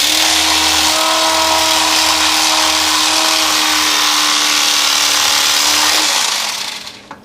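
An electric knife fillets fish, its steady, loud motor buzz running close up for about six seconds before winding down and stopping.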